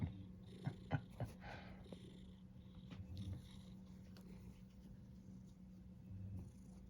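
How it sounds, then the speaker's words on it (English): A cat purrs softly and close, a faint low steady rumble beneath a few quiet taps and rustles near the start. "Jimmy's purring"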